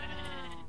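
A sheep in the video game Minecraft bleats once, a short, loud, wavering synthetic baa that fills the whole moment with no talk over it.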